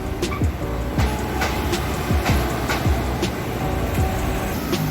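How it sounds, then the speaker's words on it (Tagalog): A train passes close by on a ride through Manila's España area: a steady broadband rumble with rhythmic metallic clacks about every half second, loud and continuous, no voices. "Dumaan na tren."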